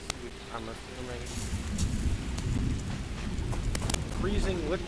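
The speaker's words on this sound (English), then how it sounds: "Freezing liquid thunderstorm?" Steady rain rushes and hisses through a video game thunderstorm, with scattered cracks, held at a moderate level under ongoing talk.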